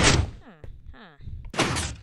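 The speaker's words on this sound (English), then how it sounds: "Piston door there." A compact 2x2 piston door in Minecraft works with two loud mechanical pushes, one at the start and one near the end, with someone talking in between.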